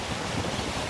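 Water flows in a stream, a steady close wash of broadband rushing noise mixed with some wind buffeting, with no voices over it.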